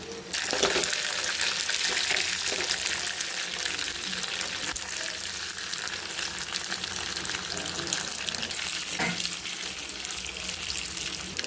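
Mustard seeds, cumin and dried red chillies tempering in hot oil give a continuous, fairly soft crackling sizzle with small pops, steady throughout and mostly without talk.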